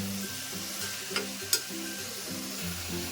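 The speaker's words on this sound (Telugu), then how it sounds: "ఈ పావు కిలో చిక్కుడుకాయలని మనం ఇందులో వేసేసుకోవాలి వేసుకొని బాగా ఇది కూడా మగ్గనియాలి" Flat beans (broad bean pods) stirred in a pan for a Telugu curry, a soft steady sizzle with rhythmic scraping strokes of a spoon and a couple of light metallic taps, heard close and fairly quiet.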